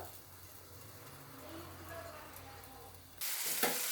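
Tomatoes fry in a pan for hotel-style dal, a low steady sizzle near the mic that swells into a much louder, brighter hiss for the final second.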